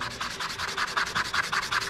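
Steady rhythmic sanding of a wooden plug on a step stool, abrasive paper rubbing back and forth in quick regular strokes, close and moderately loud.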